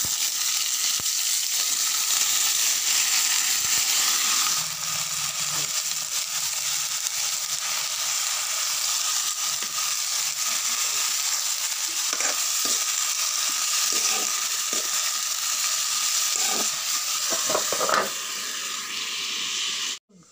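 Onions frying in hot oil in a wok in a village kitchen, giving a steady, loud sizzle throughout with a few brief clinks of stirring near the end.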